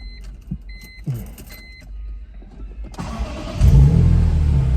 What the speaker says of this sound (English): So we'll just do a quick cold start since I've already started it from inside the car